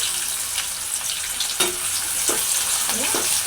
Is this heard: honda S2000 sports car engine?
no